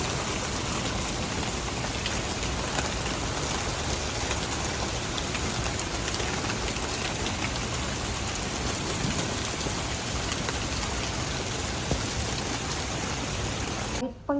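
Rain falls steadily during a sudden storm, a dense and even hiss of drops on surfaces that holds unbroken for the whole stretch and cuts off abruptly at the end.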